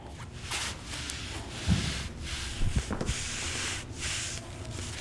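A ROLL Recovery R3 foam roller works along the left hip flexor, giving soft, repeated rubbing and brushing swishes in an irregular rhythm. A few dull thumps sit under a quiet, close background, and nobody speaks.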